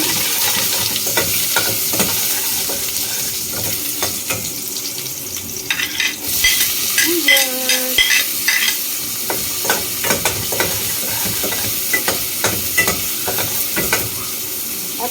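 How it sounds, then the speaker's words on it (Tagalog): Chili and ginger sauté in hot oil for Filipino dinuguan, a loud steady sizzle broken by repeated clattering stirs of a spatula against the pan, close up. "Gisa-gisa muna tayo, guys. Unahin natin ang may sili."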